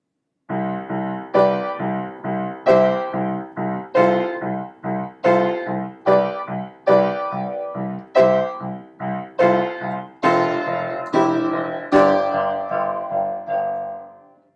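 Piano playing the opening of a song as a tutorial demo: a steady run of about eighteen short, punchy staccato chords in a bouncy rhythm, with a longer sustained chord near the end, played alone without talk.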